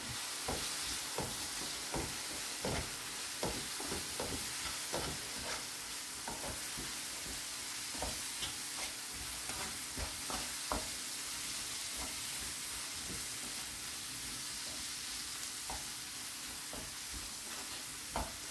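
Garlic pickle sizzling in a pan after vinegar is added, with a spoon scraping and stirring in steady, irregular strokes over a continuous soft frying hiss, close and alone with no talk.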